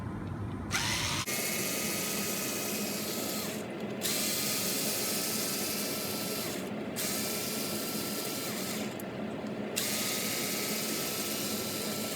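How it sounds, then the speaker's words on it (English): Screws are backed out of the transmission cover on an Extreme RC CR12 4x4 crawler, a steady close mechanical whirring and ratcheting that runs almost unbroken, with brief pauses between screws. "we're going to remove the 5 screws that hold this cover on"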